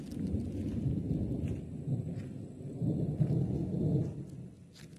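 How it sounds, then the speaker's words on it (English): Distant thunder rumbles low and soft over a quiet cabin setting at Caddo Lake State Park, a faint rolling murmur lasting a few seconds with light ticks and rustles above it. "Thunder. We'll get some rain tonight."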